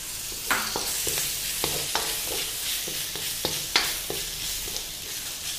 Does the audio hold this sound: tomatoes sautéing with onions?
yes